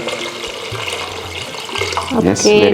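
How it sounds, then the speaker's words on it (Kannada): Water is poured into a cooking pot for vegetable sambar, a short splashing pour heard alongside a low hum, with voices briefly speaking near the end. "ಒಂದು ದೀಡ್ ಲೀಟ್ರ್ ಅಷ್ಟು ನೀರು ಹಾಕೋಣಂತ"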